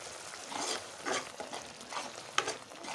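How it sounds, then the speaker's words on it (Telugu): Chopped chillies fry in hot oil with tomato and onion paste for a Kerala-style prawn roast, a faint sizzle broken by a few soft stirring scrapes, with no one speaking. "ఇలా ఆయిల్లో మంచిగా వేయించుకోవాలి."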